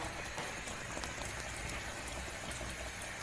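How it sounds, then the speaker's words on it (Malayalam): Chickpea curry simmers in a pan after water is added, giving a soft, bubbling crackle that stays faint and steady throughout, with no voices. "ഇനി കുറച്ച് വെള്ളം ഒഴിച്ചിട്ട് ഒന്ന് ഈ കടലിൻ്റെ പച്ചച്ചോയ മാറണം"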